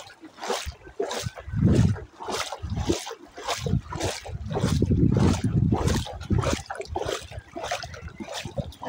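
Floodwater runs across a road in Noakhali during a flood, with rhythmic sloshing and splashing surges repeating roughly every half second, close and moderately loud, as if someone wades through the strong current.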